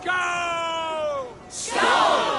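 A horn blast followed by a crowd of warriors shouting a loud battle cheer, from the Assassin's Creed Valhalla video game.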